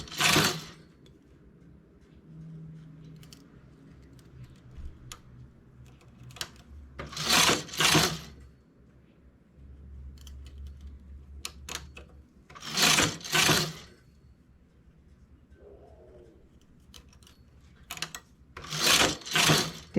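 A knitting machine works on a skirt with tulle, its carriage sweeping across in loud mechanical bursts of clatter and ratcheting, several passes separated by quieter whirring and pauses.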